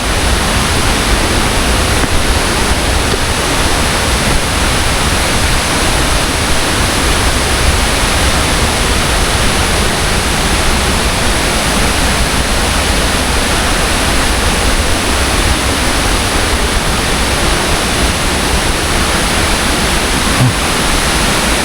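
Bega Falls pours in a continuous, loud, close roar of rushing water that stays even for the whole stretch, with no voices.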